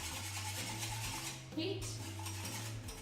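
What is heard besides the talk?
whisking lemon tart filling in a pan over heat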